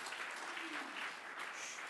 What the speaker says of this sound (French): donne le Seigneur un grand applaudissement.